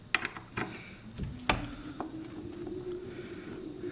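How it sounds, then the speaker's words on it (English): A micro screwdriver works a fitting loose on a damaged timber front door. Faint irregular clicks and small scraping ticks come first, then a soft ratcheting rasp and a low steady hum, all close and quiet with no talking. "all you gotta do is put it in there, unscrew"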